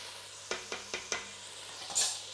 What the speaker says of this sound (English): Now we're going to put in the celery. Give it a mix.